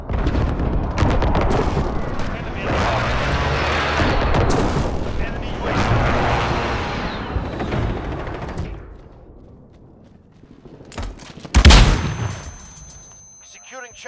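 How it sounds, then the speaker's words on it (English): Precision airstrike explosions in Call of Duty: Modern Warfare, Domination mode on Operation Salvation: a sustained roar of blasts and gunfire fills the first nine seconds, followed by a sharp, loud boom near twelve seconds. "Allied precision airstrike incoming."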